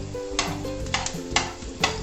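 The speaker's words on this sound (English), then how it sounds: "And we'll stir it." Garlic and chilies fry in a pan with a steady sizzle while a utensil stirs, scraping the pan in four sharp, evenly spaced strokes.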